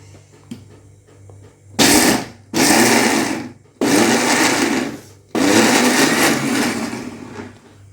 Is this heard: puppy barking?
no